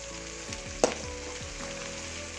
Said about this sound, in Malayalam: ഇതെല്ലാം കൂടെ നമുക്കിട്ടൊന്ന് വഴറ്റിയെടുക്കാം